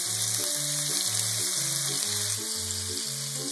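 Browned pork in a frying pan sizzles steadily after soy sauce goes in, a bright hiss running beneath louder background music.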